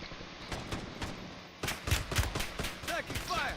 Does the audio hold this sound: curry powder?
no